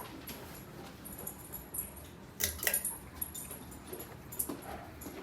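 Inside a house foyer, dogs move about with faint whimpers, jingling tags and soft shuffling under a steady low background hum, the sounds quiet and intermittent.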